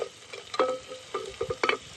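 Chillies and turmeric frying in a pan give a soft, close sizzle, broken by a few quick stirring clatters over a couple of seconds.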